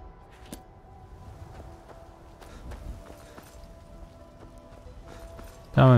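Horse hooves thud in an uneven, loping rhythm at moderate distance in Skyrim, then a sudden loud burst cuts in at the end.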